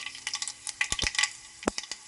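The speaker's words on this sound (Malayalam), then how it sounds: "കടുക് പൊട്ടി വന്നിട്ടുണ്ട്. ഇനി ഇതിലേക്ക് 2 ഉണക്കമുളകും" Mustard seeds popping and spluttering in hot oil as dried red chillies go in, a quick run of sharp crackles and snaps over a light sizzle.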